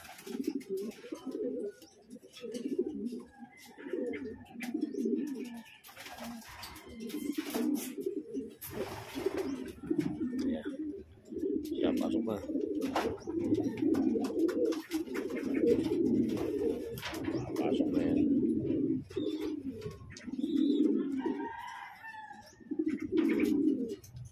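Racing pigeons coo repeatedly in soft, rhythmic bursts, close by, returning home after a training flight, with occasional faint chirps and no talking.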